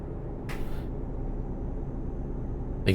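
A truck in Euro Truck Simulator 2 multiplayer runs at highway speed, a steady low engine drone and road rumble throughout, with a couple of short hissing bursts over it.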